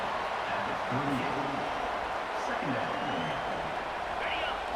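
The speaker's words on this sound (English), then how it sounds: "This crowd bringing the energy and noise early." Steady roar of a stadium crowd in the College Football 25 video game during an Oklahoma State vs West Virginia matchup, a dense continuous wash of cheering with a commentator's voice talking over it.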